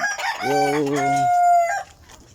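A backyard farm rooster gives one loud, close cock-a-doodle-doo crow lasting over a second, followed by a brief faint cluck.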